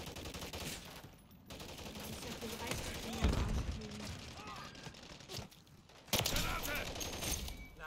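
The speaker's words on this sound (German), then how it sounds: "Feindbeschuss!" Enemy gunfire in the video game Call of Duty Modern Warfare 3 rattles as rapid, fairly faint automatic bursts mixed with game effects, with players talking over it.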